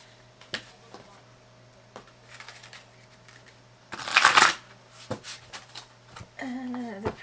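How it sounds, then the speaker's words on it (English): Deck of tarot cards being pre-shuffled by hand, a burst of riffling flutter in the middle amid scattered soft taps and clicks, fairly quiet and close, with faint background sounds. "Just shuffle these real quick, pre-shuffle."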